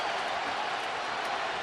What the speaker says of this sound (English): Crowd's alive here at Dodger Stadium now